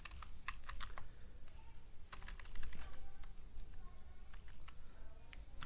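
Someone types a title on a computer keyboard while formatting a table in MS Word, producing quick, irregular clicking keystrokes in small bursts, close and fairly quiet.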